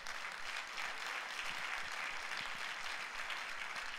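A congregation at a pastors' gathering applauds steadily in a faint, distant wash that stays even throughout.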